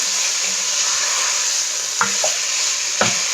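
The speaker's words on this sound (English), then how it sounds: "I always cook my onions, saute them first, really good" Onions sauté in a pot for taco soup, a bright steady hiss of frying close by, broken by a couple of sharp stirring clicks and scrapes of the spoon.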